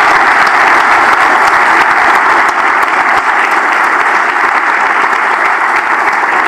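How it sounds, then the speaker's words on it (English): A large keynote audience gives a loud, sustained round of applause, dense and steady throughout without a break, with no voices over it. "please join me in one final round of applause for a wonderful talk"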